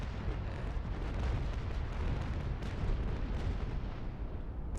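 Ship cannon broadsides roar in the Naval Action naval warfare game, dense rumbling booms rolling together into a continuous loud low barrage, heard alone without speech.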